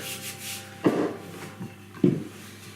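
A rolling pin working pastry dough for a treacle tart on a worktop, two distinct thudding rolls with soft rubbing between, close and clear without speech.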